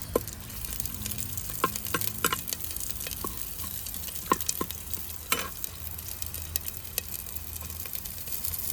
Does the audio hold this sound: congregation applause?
no